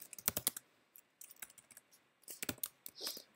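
Typing on a computer keyboard, quick clusters of light clicking keystrokes close by, broken by short pauses, with no voice over it.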